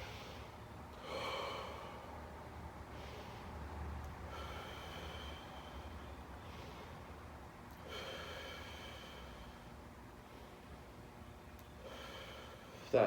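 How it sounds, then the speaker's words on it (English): Deep breathing during a floor stretch in a flexibility class, slow long inhales and exhales repeating every few seconds, close and soft, with a hissy airy texture and no talk. "Once you're in this position, I like to try to breathe into my back."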